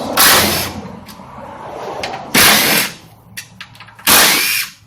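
Three loud bursts from a power tool loosening 13mm bolts on a 2006 Dodge Stratus during A/C condenser removal, each lasting under a second, separated by quieter pauses with faint clicks.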